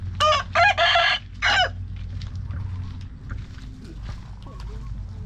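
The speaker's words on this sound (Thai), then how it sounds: "ไก่ชน นะฮะ สายพันธุ์ดีมา" Fighting cocks of a good breed crow loudly several times in quick succession, close by, followed by softer scattered clucks over low farmyard background noise.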